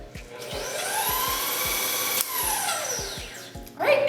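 Electric mixer creaming butter and sugar for chocolate chip Heath cookies, a loud steady motor whine with rhythmic low thumps of the beaters against the bowl, ending in a brief clatter.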